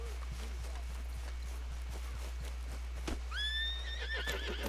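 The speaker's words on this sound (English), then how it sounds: "me embarré con mi caballo" A horse in the video game Red Dead Redemption 2 gives a sharp, rising whinny near the end, after soft hoof steps and faint ambient game sound.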